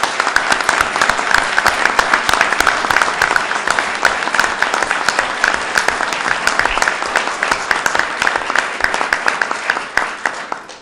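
Sustained, loud audience applause from a crowd at a governor's public announcement on flood recovery, dense steady clapping lasting several seconds before tapering off at the end.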